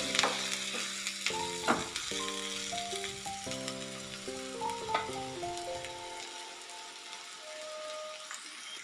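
Chopped onions frying in hot oil in a pan for a street-style bun masala, giving a steady, close sizzle with a few light clatters, while music plays in the background.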